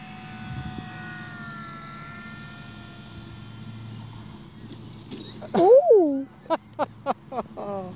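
A Dynam Tempest model airplane flies a low touch and go, its steady high electric whine holding at a distance before rising sharply as it passes close, followed by several brief bursts of voices and handling noise.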